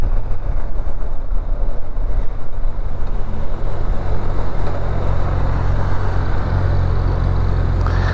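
Kawasaki Versys 1000cc motorcycle being ridden, a steady loud engine drone with heavy low rumble and rushing wind across the whole stretch, no voices over it.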